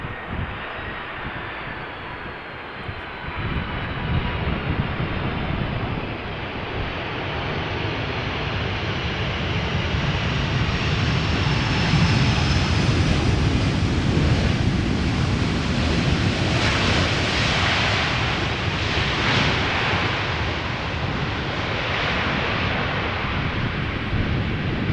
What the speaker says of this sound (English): That's not typically something that 747s do, but they do sometimes use their reverse thrust.